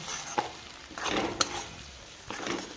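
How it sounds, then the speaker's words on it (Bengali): Ginger and garlic paste with spices fries in a pan on low-to-medium heat for a Bengali katla fish curry, a soft sizzle punctuated by several sharp stirring scrapes and clinks of a spoon. "এক চামচে রসুন বাটা দিয়ে এটা ভালো করে আমি কষিয়ে নেব"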